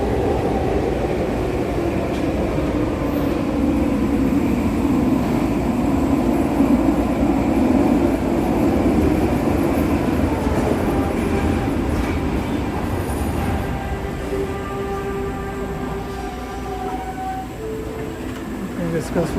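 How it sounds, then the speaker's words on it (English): Inbound SkyTrain arriving at an elevated station, a steady rolling rumble of rail cars with squealing wheels and whining motors that slowly fade as the train slows, heard alone without talk. "Here comes the inbound SkyTrain."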